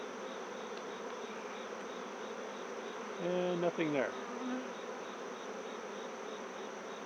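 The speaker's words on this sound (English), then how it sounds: "Bunch of happy bees." Honey bees buzz steadily in an apiary hive being inspected, a dense continuous hum throughout, with a short burst of nearby talk and handling in the middle.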